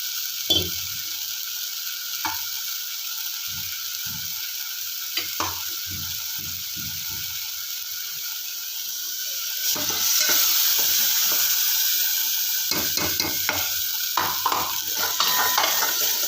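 Masala frying and sizzling in a pot (bhagona) for a Marathi bombil (Bombay duck) curry, with scrapes and clinks of a spoon stirring, sparse at first then a louder steady sizzle with busy stirring toward the end.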